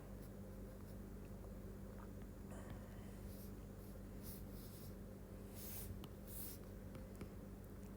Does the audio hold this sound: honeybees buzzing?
no